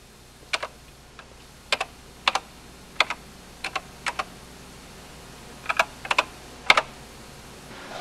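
Keys on a Synclavier terminal computer keyboard are typed in short, sharp clusters of two or three clicks separated by brief pauses, close and clear against a quiet room hum.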